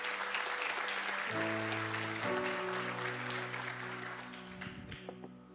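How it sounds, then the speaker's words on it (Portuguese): A church congregation applauds in a steady wash of clapping at a worship service, with sustained keyboard chords underneath that shift mid-way, and the clapping tapers toward the end. "Deu o melhor aplauso que você pode dar ao Senhor."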